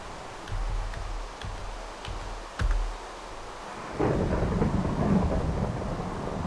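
Rain and rolling thunder from the video game Minecraft, with several sharp thunder cracks early on, then a steady, louder wash of rainfall that continues to the end, with no voices.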